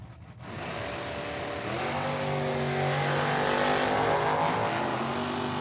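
Two drag race cars, an Outlaw Nova and a newer-style Mustang, launching side by side at a dragstrip, their engines roaring loud and steady with rising, sweeping pitch as they accelerate hard.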